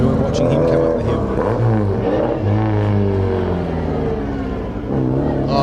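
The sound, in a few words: yellow GT racing car engine roaring up hillclimb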